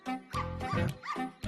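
In a comedy film scene, a dog gives a quick run of close, yappy barks and yips with short gaps between them.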